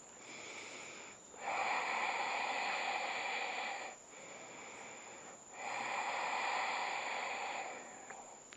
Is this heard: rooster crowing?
no